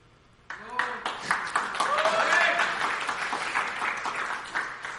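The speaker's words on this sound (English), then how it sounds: "Getting a lot of applause." Audience applause at the Xiaomi Redmi 4 phone launch event swells from a sudden start into sustained, fairly loud clapping, with a presenter's voice faintly audible through it.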